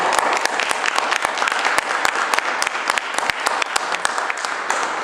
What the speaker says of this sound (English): can we quickly practice how we would welcome anybody on stage?